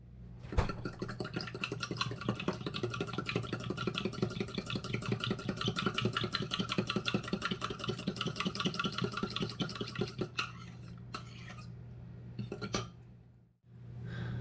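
Dry ingredients for mayonnaise muffin rolls being mixed in a bowl, a busy clinking, whirring stir with a steady low hum, continuous and close for about ten seconds before tapering off.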